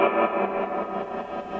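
Electric guitar through an amp-style effects chain with tremolo placed after the reverb, imitating an old amp sound; a sustained, effected tone pulses steadily in volume with a washy tail, played alone without talk.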